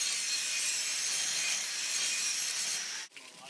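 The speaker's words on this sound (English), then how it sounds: "The finished piece is then burred off with an angle grinder." An angle grinder deburrs a gas-cut steel weld test piece, giving a steady, loud abrasive grinding hiss that holds for about three seconds, then cuts off abruptly, leaving a quieter rasp.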